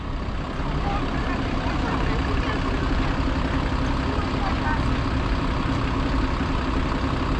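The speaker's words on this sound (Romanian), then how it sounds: "Nu una, dar două mașini de evacuare." Tow trucks clearing cars parked on a city pedestrian crossing, a steady heavy diesel engine rumble idling and manoeuvring close by amid street noise, with people talking intermittently; no distinct reversing beeps stand out.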